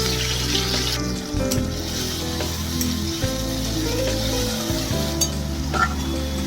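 Ground spice paste hitting hot oil already holding nigella seeds and green chillies gives a loud, steady sizzle that fills the clip, with several sharp crackles and spits and no voices.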